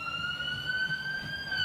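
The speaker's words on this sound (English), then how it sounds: "there's a ambulance going by over here" An ambulance siren passes outside a gym during a squat workout, a steady high tone holding over low room rumble for the whole moment.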